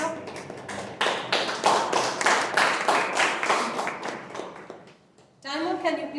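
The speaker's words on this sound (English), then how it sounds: "Let's give a big round of applause to the TT Master." Applause at a Toastmasters club meeting, a small room of people clapping in a dense, close burst for about five seconds before it stops and a voice begins speaking.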